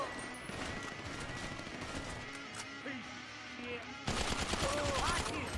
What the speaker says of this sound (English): I'm using a machine pistol.